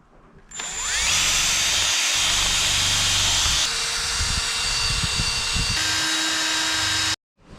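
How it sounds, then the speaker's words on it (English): A drill fitted with a small polishing tip buffs residue off a Toyota Paseo instrument cluster, making a steady close whirring hiss for about seven seconds that shifts pitch twice before cutting off. "I'm gonna try to use my drill and with a little polishing tip and see if we can remove this"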